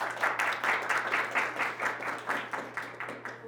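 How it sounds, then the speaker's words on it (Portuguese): Audience applause for a panelist at an internet governance youth panel, steady rhythmic clapping from a room of people, moderately loud and continuous, fading slightly at the end. "Palmas para o Francisco."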